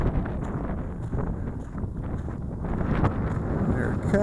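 Gusty wind buffets the microphone outdoors during a test flight of an MJX Bugs 3 Pro brushless GPS drone, a steady broadband rumble with a few stronger gusts, heard alone without talk.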